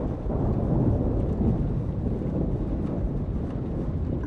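A thunderstorm in the Life is Strange video game rumbles steadily with heavy, continuous low roaring noise, like rolling thunder mixed with wind and rain, filling the whole span without any voices.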